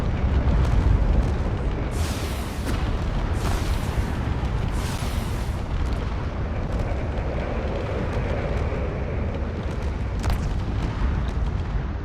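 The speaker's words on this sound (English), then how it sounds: "So more missiles being fired, but even with all those missiles, I don't think it's going to be enough" Missiles launching and detonating in a space combat video game, a dense continuous roar of booming explosions with repeated bursts of blasts and rumbling impacts throughout, loud and layered.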